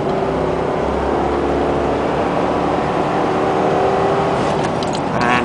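A 1999 Range Rover P38 with a 4.6-litre V8 and automatic gearbox accelerates hard in sport mode, a loud continuous engine drone with road roar from inside the cabin.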